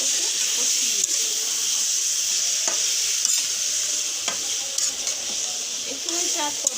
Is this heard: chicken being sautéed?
yes